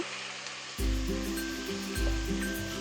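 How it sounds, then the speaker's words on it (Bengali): Onion paste sautéing in hot oil for beef kofta biryani, a steady close sizzle that swells as it is stirred, twice jumping louder, with faint kitchen clatter and no talk. "পেঁয়াজটা আগে কষিয়ে নিচ্ছি"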